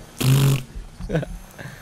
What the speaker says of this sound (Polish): Walną bąka.